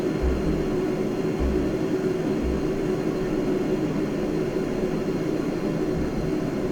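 A JF-17 jet aircraft in the DCS flight simulator gives a steady, loud jet engine roar with a constant low rumble and faint intermittent low thumps, no voices.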